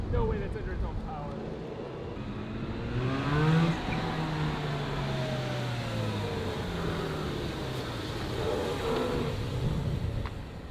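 A crashed Mazda RX-8 drives under its own power, its engine droning with rising and falling pitch and a little tire rubbing, fairly close, while people talk over it.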